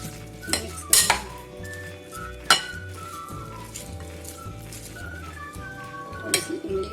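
Papri chana chaat being mixed with green chutney in a dish, with a spoon clinking and scraping against the bowl in irregular strokes and occasional sharper clinks, close up.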